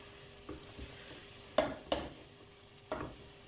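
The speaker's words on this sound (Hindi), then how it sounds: "प्याज को हमने फ्राई कर लेना अच्छी तरह।" Onions frying in a karahi for restaurant-style chicken karahi, a soft steady sizzle broken by a few sharp stirring scrapes and clanks, close and moderately quiet with no talking.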